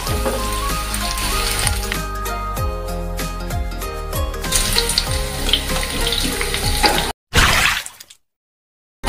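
Jackfruit pieces frying in hot oil give a steady dense sizzle and crackle, loud and close, that cuts off sharply near the end as the pan goes quiet.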